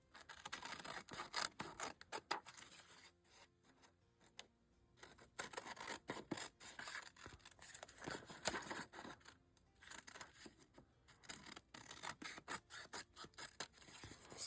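Scissors snip steadily around paper pages for a journal embellishment, giving a continuous series of close, quiet crisp cuts and rustles with brief pauses.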